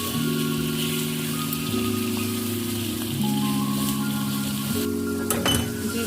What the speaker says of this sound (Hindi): चिकन को अच्छे से भूनेंगे ताकि इसका कच्चापन जो है वो दूर हो जाए।